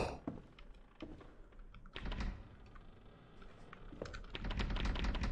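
A typewriter in the horror game Bloody Ink clacks in quick, irregular bursts of sharp keystrokes and thunks, fairly faint, with a few heavier knocks scattered between the runs of typing.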